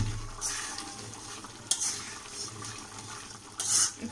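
Bitter gourd and fish belly frying in mustard oil in a pan, a soft steady sizzle broken by bursts of louder hissing and spatula scrapes as the mixture is stirred, no voices.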